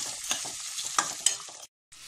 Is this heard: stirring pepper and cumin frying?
yes